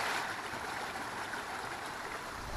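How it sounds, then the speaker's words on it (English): A small creek flowing out of a hillside near Lake Quinault in Olympic National Park, a soft continuous rushing trickle of water with no other sounds. "Oh, pretty little creek."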